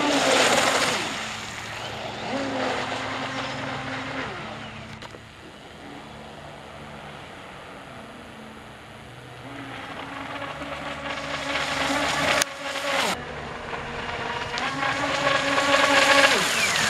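A LiteHawk Challenger boat driving on open water, its small motor droning with pitch rising and falling as the throttle changes, with water and wind noise around it.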